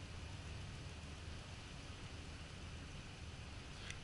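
A rain shower in Fallout 4 makes a soft, even hiss that holds steady and faint throughout, with no voices.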